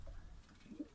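Racing pigeons cooing softly in their loft after returning home from a long flight, a brief, faint low coo with no talk.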